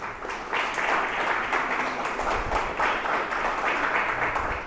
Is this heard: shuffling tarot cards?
no